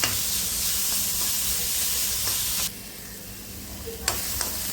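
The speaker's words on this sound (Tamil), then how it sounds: "கொஞ்சமாக எண்ணெயை ஊற்றி லைட்டாக இந்த வதக்கிக்கலாம்." Onions sautéing in a little oil in a pan for ragi adai, a steady close sizzle with faint stirring scrapes, quieting partway through, then a couple of brief utensil clicks near the end.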